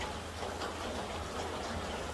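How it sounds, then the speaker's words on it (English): Steady rain keeps falling outdoors as it begins to let up, a dense continuous patter of drops on surfaces with no voices. "Seems like the rain is letting up a little bit."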